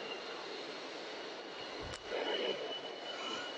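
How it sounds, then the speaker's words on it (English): Induced draft fans and blowers in an industrial boiler plant, a steady broadband roar with a faint whine, even and continuous with a brief low thump midway. "All our induced fan and blowers here."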